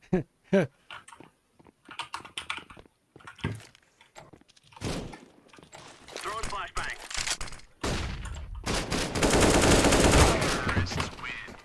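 Gunfire in a CS:GO one-versus-one match: sharp, close single shots and quick bursts, scattered at first and then denser, mixed with game effects and people talking.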